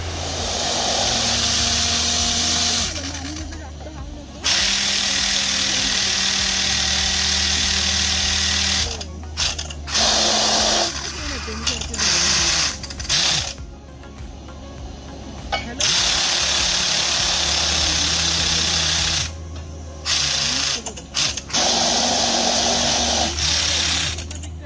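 Borewell drilling rig at work in a village in Kherdi, giving a loud, continuous mechanical drone with steady pulsing tones, broken by short pauses, and someone talking at times.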